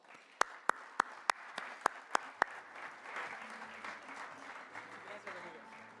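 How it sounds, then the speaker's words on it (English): Applause at a conference breakfast and plenary session: about eight sharp, evenly spaced handclaps ring out, close and distinct, then give way to a quieter murmur of room noise. "Please give him a big round of applause."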